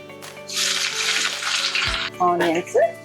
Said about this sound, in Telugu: బాగా మంచిగా ఫ్రై అవ్వాలి. రెడ్ కలర్ లో రావాలి ఆనియన్స్